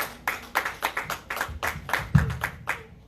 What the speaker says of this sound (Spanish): démosle un fuerte aplauso al Señor por su grande palabra